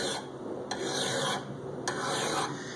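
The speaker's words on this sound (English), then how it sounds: "it's easier if you go in the direction as you're going down, in the forward direction as you're filing down" A hand file rasps along a mower blade in about four steady forward strokes, each a loud, close, gritty scrape with brief pauses between.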